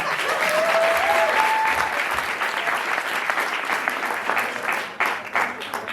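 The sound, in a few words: audience applause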